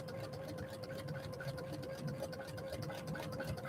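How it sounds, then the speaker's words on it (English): Home sewing machine stitching at a steady pace, with a continuous rapid mechanical chatter and hum. It sounds fairly quiet and close, and no one speaks. "just want to sit and watch me sew"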